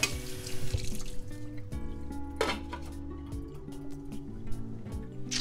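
Tap water runs steadily into a metal pot, about 12 cups, the pitch rising as it fills, with occasional clinks of cookware.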